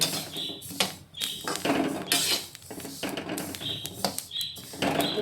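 Sesame seeds dry-roasting in a pan crackle and pop in scattered, sharp bursts throughout, with close, irregular clicks and no talking.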